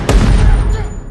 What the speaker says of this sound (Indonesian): membuat Will tidak sengaja melepaskan tembakan yang membuat Zack terkapar.